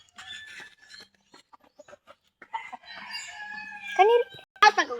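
A rooster crows out in the open, its call rising over scattered thumps and footsteps, with people talking and calling out nearby.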